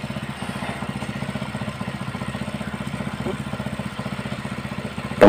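A water pump engine converted to run on LPG idles with a steady, even chugging pulse, close and fairly loud, holding a regular rhythm before a sudden louder burst at the very end.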